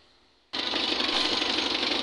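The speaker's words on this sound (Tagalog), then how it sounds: "kanina ko pa pinapaandar yung makina niya para painitin natin" A Mitsubishi L300 van engine idles as it warms up, starting abruptly after a quiet moment and then holding a steady, fast rattling clatter close by.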